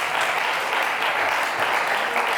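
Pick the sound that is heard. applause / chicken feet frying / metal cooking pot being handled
applause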